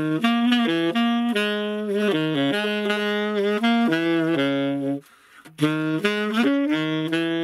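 Buescher 400 vintage tenor saxophone plays a flowing melodic phrase of short and held notes, close and full, alone with one brief breath pause near the end.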